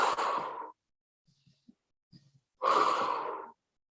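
Two long, breathy exhales during a Pilates exercise, close and moderately loud, with a quiet pause between them and a few faint soft sounds in the gap.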